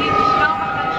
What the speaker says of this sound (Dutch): Ik hoor nu een trein en er ziet ook een trein op het beeld.